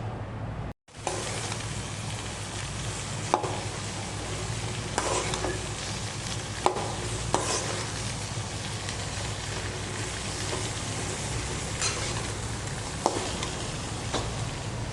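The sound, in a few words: mango pieces stirred into oil with chili powder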